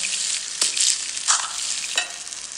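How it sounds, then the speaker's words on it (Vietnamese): Shrimp deep-frying in hot oil, a bright crackling sizzle that rises into a few sharp spitting bursts over a steady frying hiss. "Món tôm này mình sẽ mang chiên giòn. Tôm mình mang chiên giòn nè. Chiên đi."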